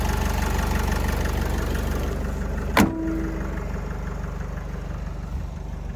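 The 2.0-litre diesel engine of a 2013 Opel Vivaro van idles steadily nearby with a low, even rumble and faint knocking, interrupted by one sharp metallic clack partway through.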